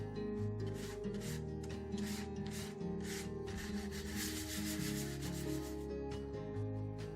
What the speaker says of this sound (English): Then I lightly sand down the heart here and there, not too much, with a fine grit sandpaper.